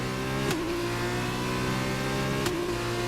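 An F2 race car engine in the racing game Braking Point drones steadily at mid pitch, holding a constant tone with two brief shifts in pitch, fairly quiet and without voices.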